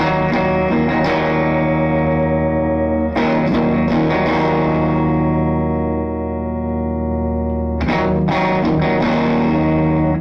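Heavily distorted electric guitar chords through an AB763 tube amp with R boost preamp distortion ring out loud and sustained, struck three times with long decaying tails between strums.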